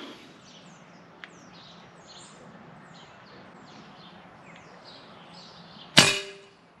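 A single sharp, muffled pop near the end from a suppressed Crosman ICON 4.5 mm PCP air rifle shot stands out against quiet outdoor ambience with scattered birdsong and a faint click earlier.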